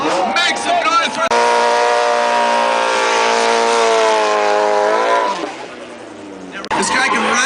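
A Nissan 240SX RSR drift car's engine screams at high, steady revs for several seconds, dipping as the car slides around cones on a speedway course, with an announcer talking before and after.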